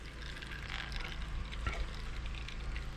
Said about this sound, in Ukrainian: Так, масло стікає, ставимо з того боку.